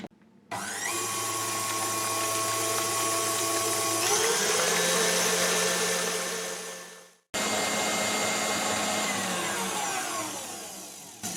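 Electric hand mixer beating cake batter at maximum speed: a loud, close, continuous motor whine that shifts pitch partway through, cuts out briefly around seven seconds, then resumes steadily.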